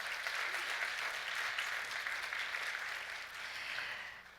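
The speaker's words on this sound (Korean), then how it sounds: "마틴 랩 교수님께 큰 박수" Audience applause for a guest professor at a Seoul care-policy conference, a steady broadband wash of many hands clapping that holds evenly for several seconds and fades slightly at the end.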